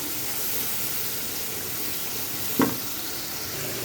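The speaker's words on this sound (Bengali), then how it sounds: "এখন আমি সব মশলা দিয়ে দিচ্ছি একসাথে। ভালো করে কষিয়ে নেব।" Ground spices sauté together in a pan for vegetable khichuri, a steady moderate sizzle with one brief sharp knock or stir midway.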